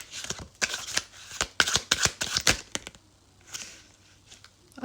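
Tarot cards are shuffled in a quick burst of crisp riffling flicks, then a few softer shuffles follow after a short pause; no talking.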